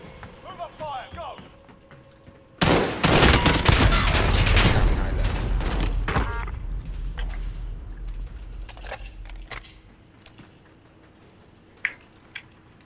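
A sudden loud burst of rapid gunfire in an online shooter game, dense and close for several seconds, then fading into scattered shots and faint thuds while players talk.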